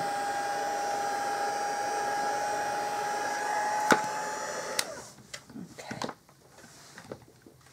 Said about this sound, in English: heat setting just to dry that ink off